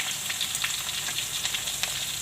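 Ginger and chilies, green and red, hitting hot oil in a pan for a chana flour gundi shaak: a steady, bright sizzle and crackle from close by, with no voices.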